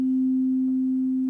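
A tuning fork rings at its proper, in-tune pitch as a single pure, steady tone that holds clear and strong for the whole moment, with nothing else around it.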